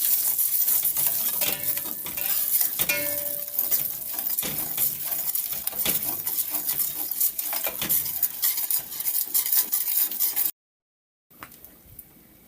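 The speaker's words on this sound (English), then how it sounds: "Now the oil is hot, I'm gonna add some curry. Stir it in." Curry powder stirred into hot oil for Jamaican curry chicken, a loud close sizzle with repeated scraping and clinking of the utensil against the pot, cutting out briefly to silence before resuming more quietly.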